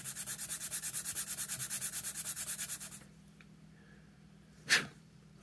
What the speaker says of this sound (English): lay it on your sanding stick, lay a finger on it, and just real gentle pressure,